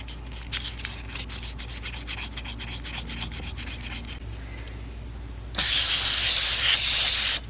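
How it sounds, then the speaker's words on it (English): Emery cloth rubs against a Harley Shovelhead transmission in quick, close, rhythmic strokes. It then gives way to a loud, steady hiss as brake cleaner is sprayed for about two seconds, with no talking. "I'm gonna take a little emery cloth, clean all this up, and brake clean all that out"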